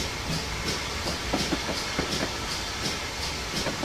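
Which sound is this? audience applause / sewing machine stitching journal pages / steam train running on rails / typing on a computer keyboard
steam train running on rails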